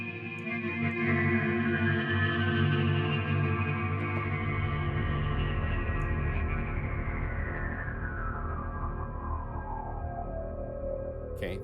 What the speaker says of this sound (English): Okay, then you could turn on the delay and reverb,